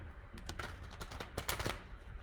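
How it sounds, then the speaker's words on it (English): Tarot cards being shuffled by hand, a quick series of soft crisp riffling and tapping bursts, close but faint and alone. "I'll go ahead and shuffle."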